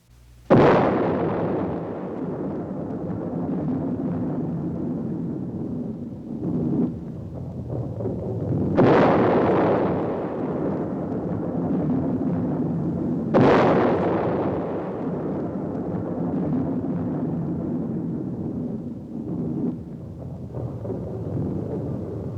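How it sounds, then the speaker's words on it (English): Three huge, booming blasts of an atomic bomb explosion from an old educational film, each a sudden roar that lingers into a long rumbling decay, with no voices heard. "The world was deeply shocked by the first atomic explosion."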